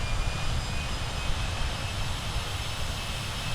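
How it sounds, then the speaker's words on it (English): Boeing 747 jet engines roar steadily at takeoff power in a flight simulator, a dense, continuous broadband rumble with no voices over it. "Hear those beautiful engines firing up there."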